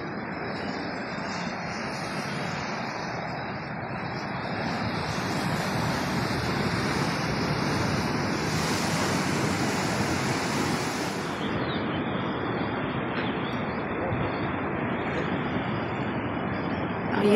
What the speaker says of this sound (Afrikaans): Hierdie is nou kwaai water.